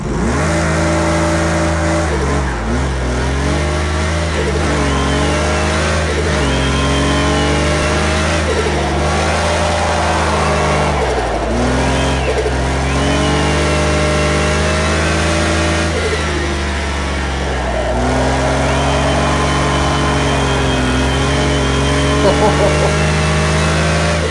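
A Porsche 959 engine roars continuously in Project Cars 2 at Laguna Seca, with the revs climbing and dipping through gear changes and loud, close throughout.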